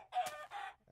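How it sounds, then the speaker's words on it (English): A female chicken in the game TerraFirmaCraft gives a short pair of clucks, a nasal squawk followed by a second clipped cluck, close and clear with nothing else around. "Oh, that's a female chicken, I guess."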